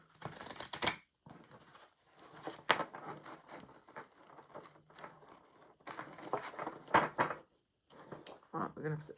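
A deck of playing cards being shuffled in a few brisk riffle bursts separated by pauses, close and fairly quiet, with people talking over and between the shuffles.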